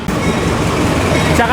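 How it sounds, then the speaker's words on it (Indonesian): Jaka Tingkir economy train, a stainless new generation set from Pasar Senen to Solo Balapan, rolls into a station with a close, loud rumble and wheel clatter, a voice talking over it. "Dan ini ada kereta api masuk teman-teman."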